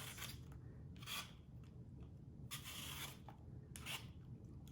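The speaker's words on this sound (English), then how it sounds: "the Granny Smith apple is going to peel much, much easier" A Granny Smith apple being peeled, soft scraping strokes repeating every second or so, quiet and close with no talking.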